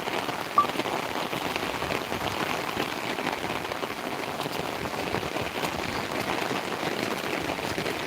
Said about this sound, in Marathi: पाऊस चालू झालेला आहे मुसळधार पाऊस पडत आहे